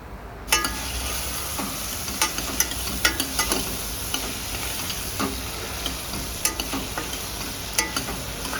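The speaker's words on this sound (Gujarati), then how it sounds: "તે દૂધી આપણે એમાં એડ કરી દઈશું અને બરાબર હલાવી લઈશું બધી જ વસ્તુ" Chopped bottle gourd stirred with turmeric and asafoetida in a pan, a steady sizzle under repeated scraping clicks of a spoon, close and moderately loud with no talking.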